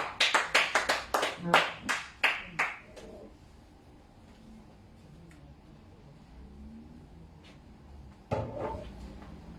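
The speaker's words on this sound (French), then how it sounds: "We are clapping the hand to the Lord." A congregation clapping hands in worship during a prayer service, a burst of about a dozen loud, rhythmic claps in the first few seconds, then a quiet room with faint murmuring before a final short clatter.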